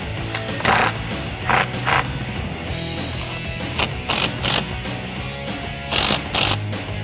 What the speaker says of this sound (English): Now we can go through and tighten the rest of our clamps up.